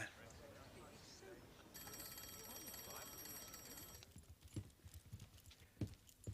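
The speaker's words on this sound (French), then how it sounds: "Oh, monsieur Poirot, on vous demande au téléphone." A telephone bell rings repeatedly in a period drama household scene, sounding mid-level over hoof clip-clops and background movement, with people talking nearby before it stops and footsteps and clatter follow.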